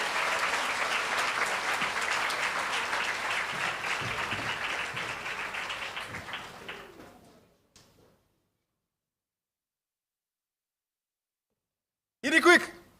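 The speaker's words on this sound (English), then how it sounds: "I think they can get another round of applause, don't you think?" Audience applause fills a national awards ceremony hall, a dense sustained clapping that gradually thins and fades out over several seconds, followed by silence and then a brief burst of noise near the end.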